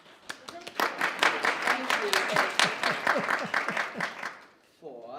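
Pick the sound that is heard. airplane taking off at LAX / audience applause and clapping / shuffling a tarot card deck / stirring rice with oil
audience applause and clapping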